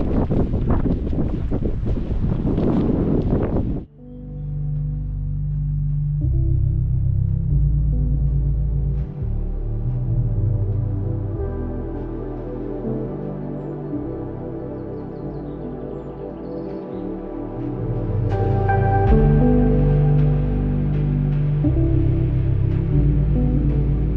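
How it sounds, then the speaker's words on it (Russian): Strong outdoor wind buffeting the microphone near the Rostov Kremlin, loud low rumbling gusts that surge and ease across the whole stretch, with a brief burst of broader noise at the start. "И ветрено."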